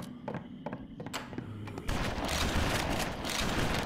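Gunfire from a big shotgun in the video game BloodRayne: ReVamped, dense overlapping blasts that swell into a loud continuous barrage in the second half.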